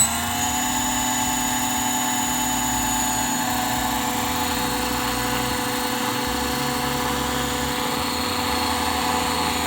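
A radio-controlled UH-60 Black Hawk scale model helicopter spools up as the throttle is raised, giving a steady, loud whining rotor and motor drone with a high turbine-like whine that holds constant throughout.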